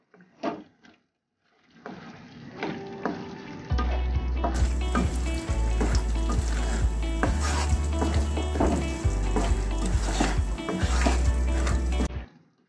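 250 grams of paneer stirred in a hot pan for a creamy paneer sabzi: steady loud sizzling and frying with repeated scraping and clinking of the spoon against the pan, starting after a few soft taps.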